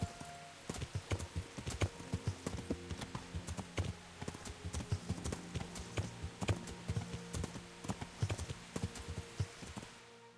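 Horse hooves clip-clop steadily in Kingdom Come: Deliverance, a close, even rhythm of hard hoof strikes continuing throughout with faint ambient background.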